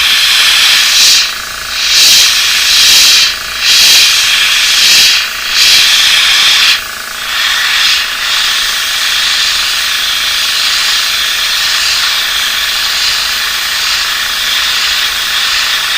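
An airbrush sprays paint for masking and stencil work, giving a loud, airy hiss that comes in several short bursts before settling into a steady continuous spray.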